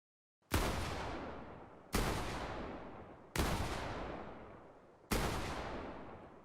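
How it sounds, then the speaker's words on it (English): Four evenly spaced gunshots from a distant weapon in a video game, each a sharp crack trailing into a long echoing decay, fairly faint and spaced about one and a half seconds apart. "despite the weapon being fired much farther away in this particular clip"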